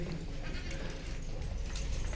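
Goats bleat amid a noisy, busy household background, the calls overlapping and fairly close, as they are tied up and put into pens.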